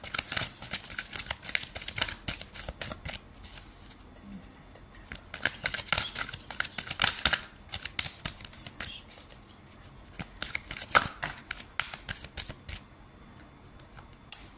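Tarot cards being shuffled and handled, a run of quick papery riffles, slaps and flicks in irregular bursts, close and fairly quiet, with no speech over them.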